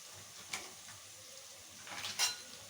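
Spiced ghugni being stirred in a pan after chilli and coriander powder go in, heard as a few faint, sparse clinks and scrapes of a spoon against the pan over a quiet background.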